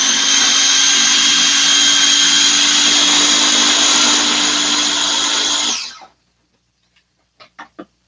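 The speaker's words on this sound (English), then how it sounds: "I'm going to blend it down some more just to get rid of all the mushroom pieces" A blender whirs loudly and steadily for about six seconds, pureeing a mushroom filling for vegan puff pastry party food, then spins down and stops, followed by a few brief soft knocks.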